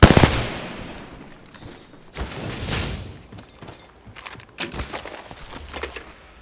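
Rapid automatic gunfire in the battle royale game Apex Legends, several fast bursts of shots spread across the moment, the loudest at the start and more scattered cracks toward the end, no talking.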